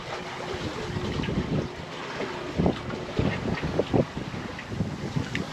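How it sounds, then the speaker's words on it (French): Wind gusts over a sailboat at anchor, exposed as the breeze builds: steady broadband rushing with microphone buffeting and periodic louder bursts, water slapping faintly beneath, no voices. "là on est dans une petite accélération de vent"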